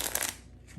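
A deck of playing cards shuffled close up, a short bright papery riffle that fades away within a fraction of a second, with no voice.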